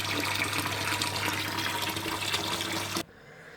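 Tap water runs steadily and loudly into a bucket for a reef aquarium water change, a dense continuous gush with a low hum underneath that cuts off abruptly near the end.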